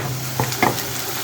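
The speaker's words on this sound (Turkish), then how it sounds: "Kavrulan soğanlarıma 1 yemek kaşığı salçamı ekliyorum ve salçamı da iyice kokusu çıkana kadar kavuruyorum." Tomato paste and onions frying in oil in a pan, with two short stirring scrapes over a soft sizzle and a steady low hum, close and fairly quiet.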